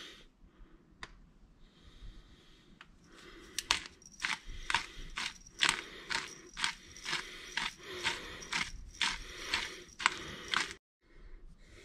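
Freshly ground black pepper comes from a hand pepper mill in a kitchen, a close, quiet series of gritty crunching twists that turn into a quick, regular rhythm of about a dozen turns before stopping.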